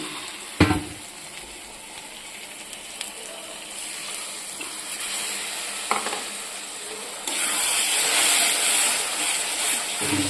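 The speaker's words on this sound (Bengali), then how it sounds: "একটু জল দিয়ে দিয়ে কষাতে হবে" Spiced goat liver stir-fried with a splash of water in a pan, a steady sizzle with occasional scraping stirs that swells louder near the end; no talking.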